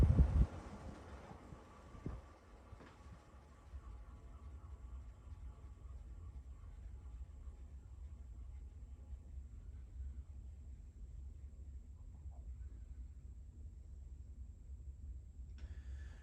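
Lakewood P-25 metal-blade electric fan spinning down, a switch-off clunk then a soft, gradually fading low whir and rumble of slowing blades, faint and close, with a light click near the end.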